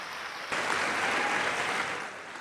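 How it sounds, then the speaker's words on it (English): Crowd applause for a band at a Boys State ceremony, a broad steady wash of clapping that swells in abruptly and holds through, easing slightly near the end with no talk over it. "Another round of applause for that band"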